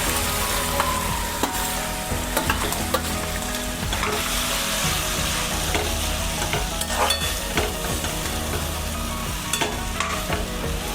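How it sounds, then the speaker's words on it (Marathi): Mashed sweet potato being roasted in ghee in a pan, with continuous sizzling and repeated scraping stir strokes throughout, no speech. "शिजून रताळे बारीक करून घेतले ते व्यवस्थित परतून घेऊ आपण"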